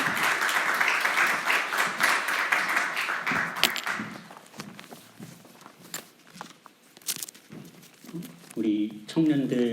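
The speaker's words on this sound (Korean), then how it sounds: "우리 격려하는 의미로 또 은혜 받기를 소망하는 마음으로 박수로 환영하겠습니다." A church congregation at a Sunday worship service applauds in welcome, a dense wash of clapping for the first four seconds that thins into scattered claps and shuffling, with voices and some music-like tones toward the end.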